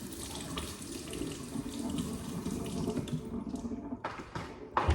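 A fresh tomato is washed under a running kitchen tap, a steady close splashing hiss of water that cuts off near the end with a few brief clatters.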